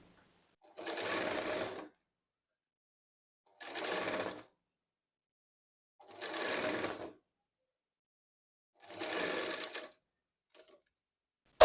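A sewing machine stitching a blouse sleeve runs in four steady bursts of about a second each, separated by pauses of silence, its rapid needle chatter close and clear.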